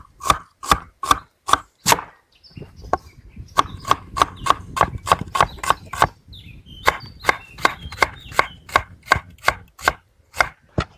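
A knife chops onion into half rings on a cutting board in steady, close, crisp strikes. A brief pause comes early, then a fast run of cuts follows over a low background rumble.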